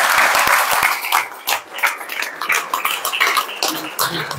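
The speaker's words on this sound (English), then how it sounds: "a real big, generous round of applause to the real founder of Penny Peel" Applause from an audience honouring the founder of an organisation, a brief burst of clapping with scattered sharp claps and a cough, fading unevenly over a few seconds.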